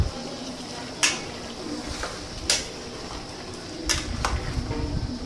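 Tomatoes being stirred in a cooking pot for chicken biryani give a few sharp spoon-on-metal clinks spaced over several seconds, above a low, steady background rustle.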